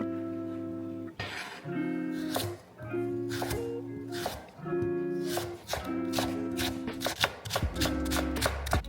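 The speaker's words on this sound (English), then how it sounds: "We're going to chop up the celery and carrots very small." A knife chops celery and carrots small on a cutting board, a steady run of quick, close taps in short bursts with brief pauses, while a voice talks over the chopping.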